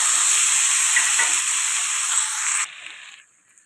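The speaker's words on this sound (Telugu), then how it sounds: "ముందుగా బాండీ పెట్టుకుని మనం కట్ చేసుకున్న వెజిటేబుల్స్ని ఫ్రై చేసుకోవాలి" Cut vegetables, potato and tomato among them, fry in a pan on the stove, giving a loud, steady hiss and sizzle up close that drops sharply in level after two and a half seconds and fades out.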